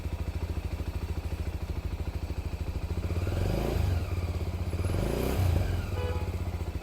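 A Lifan KPT250 motorcycle engine idles with a rapid, throbbing putter, then revs up twice in quick surges before settling back to idle.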